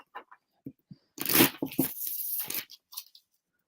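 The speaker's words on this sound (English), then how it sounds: "Let me get some shuffles in" Tarot cards are shuffled close up in a series of short papery riffles and flicks, with a longer burst of rustling cards in the middle, heard alone without talk.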